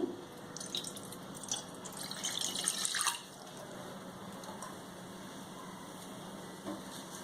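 A tumbler of water pours into a vessel for sweet murukku dough, a soft splashing trickle for about three seconds that stops abruptly, leaving a quiet room hum.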